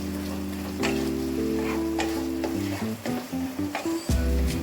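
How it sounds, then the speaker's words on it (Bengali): Softened tomatoes and capsicum are stirred in a pan with a spatula for a vegetarian paneer dish, a gentle sizzle broken by scraping strokes and a few light taps, close and fairly quiet, with no talking. "এবার একটুখানি এই খুন্তিটা দিয়ে ঘেটে নেব"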